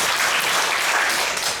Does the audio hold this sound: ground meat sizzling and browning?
no